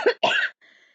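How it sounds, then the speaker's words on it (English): Two harsh coughs in quick succession, close and loud, followed by a brief fading exhale. "sorry for the coughing"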